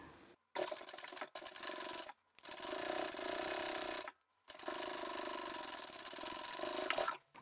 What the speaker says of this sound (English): Bring my needle down again and start sewing